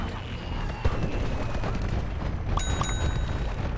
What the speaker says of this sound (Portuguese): Quem tá atirando em mim?